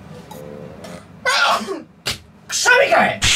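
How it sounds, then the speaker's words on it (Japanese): A sharp human sneeze bursts out close and loud, with a shorter sound just before it and a second burst right after, between stretches of quiet. "くしゃみかい！"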